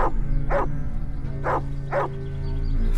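A dog barks four times in a steady, spaced rhythm, loud and close, over a constant low hum with no talking.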